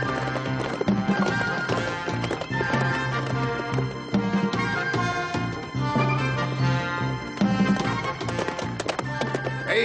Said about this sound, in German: Sieh mal, das ist Joe Daytons Pferd.